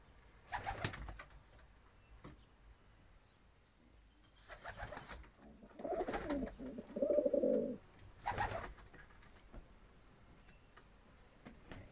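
A homing pigeon coos in a few soft, separated bursts, with brief rustling and wing movement between calls, all close and fairly quiet against a still background.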